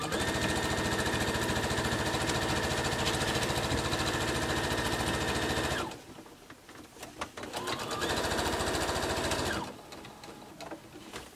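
A sewing machine runs loud, fast and steady while stitching the final seam of a T-shirt quilt top, then stops briefly before a second, quieter run of stitching, amid fabric shuffling.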